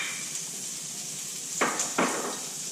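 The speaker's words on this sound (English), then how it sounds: "Look at that, dude, he's sizzling off the pan" Steak searing in a hot frying pan, a steady faint hiss throughout with two brief louder bursts of sizzle and spatter near the end.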